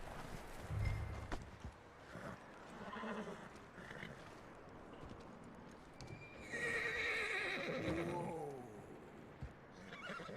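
A horse in Red Dead Redemption 2 neighs and whinnies loudly, its hooves clip-clopping nearby, with game voices talking around it.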